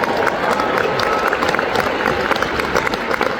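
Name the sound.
audience clapping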